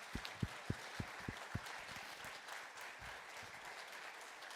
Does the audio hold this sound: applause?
yes